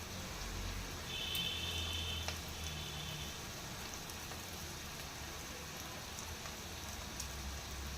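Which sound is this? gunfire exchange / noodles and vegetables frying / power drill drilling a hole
noodles and vegetables frying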